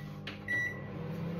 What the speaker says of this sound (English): I've had a really good week with the microwave this week.